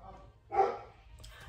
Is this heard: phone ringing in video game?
no